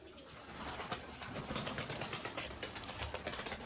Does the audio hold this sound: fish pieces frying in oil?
no